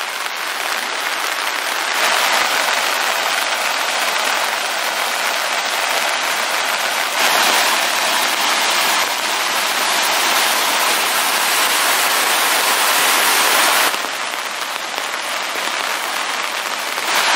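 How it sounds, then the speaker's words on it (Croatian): Heavy morning rain pours steadily on surfaces near the streams around Kozarac, a dense, even hiss with a brief surge in intensity partway through, close and loud, with no voices. "A kiša kao da pojačava, a ne da smanjiva."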